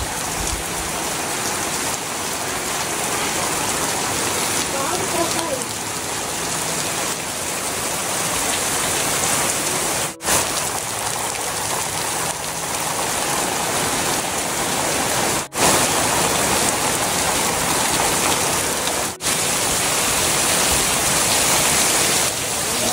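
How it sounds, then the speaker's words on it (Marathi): Heavy rain pours down steadily in rural Konkan, a loud, dense and unbroken roar of drops on surfaces that lasts throughout with no voices. "आज पाऊस दिवसभर आहे"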